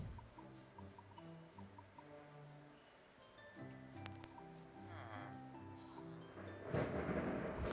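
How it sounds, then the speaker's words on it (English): Thunder rumbles from a lightning storm, heard faintly behind a looping musical tone pattern, swelling into a louder, broader crack-and-roll toward the end. "There is a crazy-ass lightning storm happening right now"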